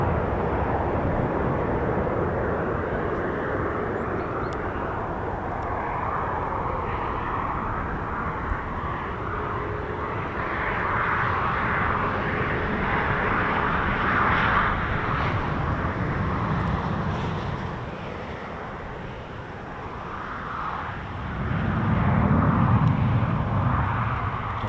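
An RAF F-35 Lightning fighter jet flies near RAF Marham, producing a loud, sustained roar that swells and fades over about twenty-five seconds, with no speech.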